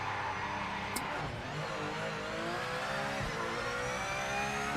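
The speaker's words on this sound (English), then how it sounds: "The downshifts are way better." A race car in Project Motor Racing runs at high revs and drops through gears, its engine note sliding up and down in pitch with a few blips, loud and close, with no voices.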